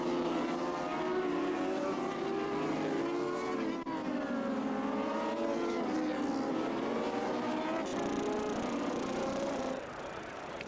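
Racing motorcycles at full speed in the 1984 Bol d'Or endurance race at Paul Ricard, a continuous high-pitched engine wail with shifting tones as several bikes scream past, loud and sustained throughout with no voices.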